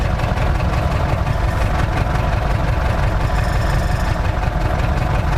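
A tractor engine idles steadily with a manure spreader hitched behind it, loading manure for corn fields. The deep, constant rumble stays close and loud throughout, with no talking.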